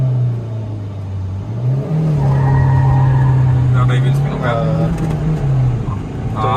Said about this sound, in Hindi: 4000 RPM पे उठाऊंगा, ज्यादा ही व्हील स्पिन होगा।